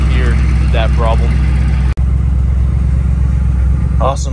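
A Squarebody Chevrolet dually crew cab truck idles steadily after fuel system work, its engine running with a low, even, continuous rumble close by, while someone talks briefly over it at the start and end.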